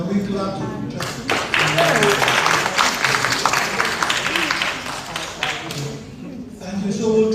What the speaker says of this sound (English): Can we clap to Justin?